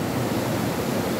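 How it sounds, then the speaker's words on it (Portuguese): A strong waterfall at a natural pool in Alto Caparaó, Minas Gerais, pours in a steady, dense roar of rushing water, loud and continuous, with no voices. "A queda ali tá mais forte do que ontem."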